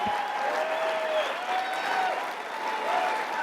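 Large crowd at the CPAC conservative conference applauding, a continuous roar of clapping with cheers rising above it.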